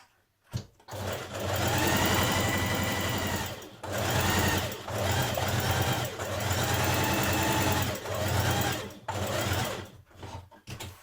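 A sewing machine stitches a dress sleeve's side seam in several loud, steady whirring runs, each stopping briefly before starting again, close and alone with no talk.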